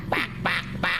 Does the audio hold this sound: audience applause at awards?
no